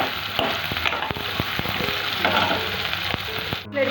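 Vegetables sizzle in a pan with onions and green chilies, a steady close frying hiss broken by sharp clicks of a spoon stirring at irregular intervals.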